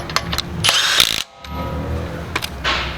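A Milwaukee mid-torque half-inch impact wrench gives short, loud rattling hammer bursts as it lightly snugs lug nuts back onto a wheel, with a brief pause between a couple of quick hits.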